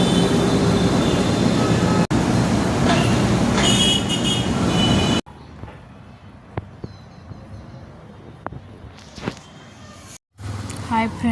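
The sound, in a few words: passing train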